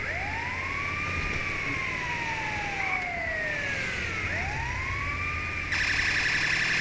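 A video game ambulance siren, British Mercedes Sprinter style, wails and sweeps up and down in long swoops, then switches to a faster, harsher electronic tone near the end. Loud and steady, no talking.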